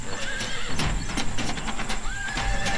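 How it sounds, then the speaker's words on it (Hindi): A horse neighs softly with gentle, wavering whinnies, alongside light hoof clip-clops and a steady outdoor background hum. "घोड़ा हल्का हिनहिनाता है।"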